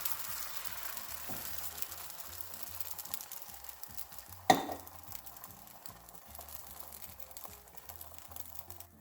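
Eggs frying in a pan for a low-carb McGriddle-style breakfast sandwich, a soft, steady sizzle running throughout with faint utensil scrapes and one sharp clatter midway.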